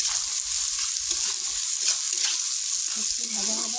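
Chopped onions with salt frying in a pan, a steady close hiss of hot oil with faint stirring scrapes throughout, no talking.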